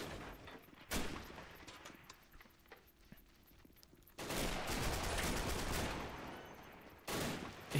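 Gunfire in a battle video game as a company commander leads a final assault with a Colt 45 pistol, heard in several loud, dense bursts with quieter clicks and rattles between them.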